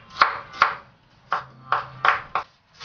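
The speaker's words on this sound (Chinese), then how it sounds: "生姜先切片，再切成姜丝" Knife blade striking a cutting board while sliced ginger is cut into fine shreds, a series of sharp, close, distinct chops in an uneven rhythm with short pauses between them.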